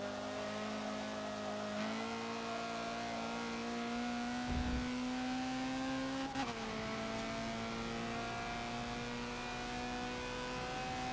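A Honda CRX race car in a Forza video game holds full throttle on the Nürburgring GP track at night. The engine is a steady, loud, high-pitched drone that rises gradually, with brief shifts and a short low thump partway through.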